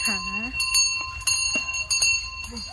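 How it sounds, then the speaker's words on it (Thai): A small bell hanging on a baby elephant jingles repeatedly in bright, uneven shakes as the animal moves, while people talk and call out over it close by. "เสียงกระดิ่งไม่เป็นอันตรายกับน้องนะคะ"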